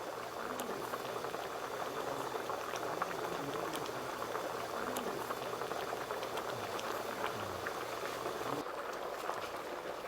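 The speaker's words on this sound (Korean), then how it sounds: "시래기를 듬뿍 넣은 참게탕이 보글보글 끓는다." A pot of spicy freshwater crab stew with dried radish greens, perilla seeds and soybean paste bubbles away close by, a soft, steady simmering patter with small pops, quiet and alone.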